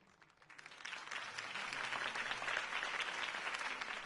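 Applause from a large crowd in a video game swells up quickly and holds steady, a dense wash of clapping with no voices standing out.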